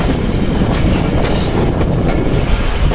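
A train rolls over a diamond crossing near Rohri, a loud, continuous rumble with rapid clickety-clack wheel impacts over the rail joints, close and steady throughout.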